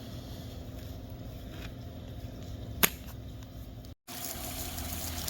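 A replaced rotor lawn sprinkler sprays water in a steady, moderately loud hiss, broken by one sharp snap and a brief cutout before the spray resumes.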